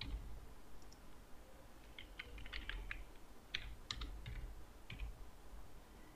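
Keys on a computer keyboard are tapped in short irregular clusters while a password is entered, producing light, fairly quiet clicks with pauses between bursts.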